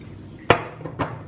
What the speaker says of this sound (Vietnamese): Và mình khuấy đảo đều đi nha